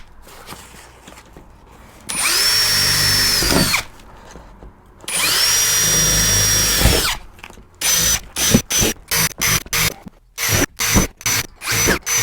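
A power drill bores a starter hole for a jigsaw in a 2021 VW Crafter van during a bonded window install. Two loud, sustained whining runs are followed by a string of short, rapid trigger bursts.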